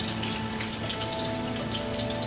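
Onion lava burger patties frying in a pan, two at a time, give a steady, continuous broadband sizzle with a faint hum underneath, even and uninterrupted throughout.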